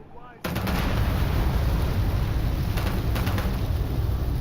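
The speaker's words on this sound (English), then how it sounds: "I shot something back there which exploded, which was funny." A burst-fire weapon in Starfield opens fire, setting off a loud blast that begins abruptly after a short quiet moment. The roar then continues at a steady level until the end.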